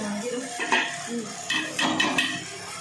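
A spoon stirs fish curry in a pot, making a few close, irregular metallic clinks and scrapes against the pot, with someone speaking underneath.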